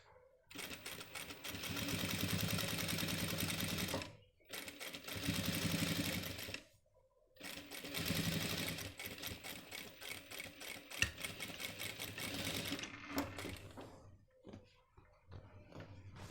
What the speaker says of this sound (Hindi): पक्का टाँका करके आप इस तरीके से इस पे सिलाई करिए।